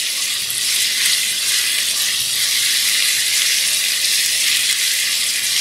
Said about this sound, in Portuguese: Vamos esperar a cebola fritar aqui por 2 minutos.